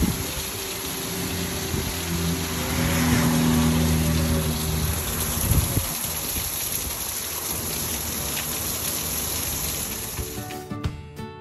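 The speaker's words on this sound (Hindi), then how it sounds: "अल्लाह पाक की रहमत बरस रही थी माशाल्लाह से, अल्हम्दुलिल्लाह से बहुत ही मज़े की जो है वो बारिश हो रही थी।" Rain pours steadily outdoors, giving a dense broadband hiss with a low humming drone beneath it. A brief thump comes partway through, and the sound fades out near the end.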